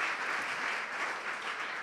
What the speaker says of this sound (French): Quelques applaudissements pour remercier Madame Masson-Delmas de sa présence.